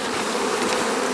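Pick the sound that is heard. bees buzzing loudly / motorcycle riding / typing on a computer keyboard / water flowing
bees buzzing loudly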